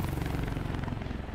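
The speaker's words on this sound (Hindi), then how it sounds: "हेलीकॉप्टर जा रहा" A helicopter in the Spider-Man Remastered video game thumps with fast, steady rotor chop, close and loud, heard alone.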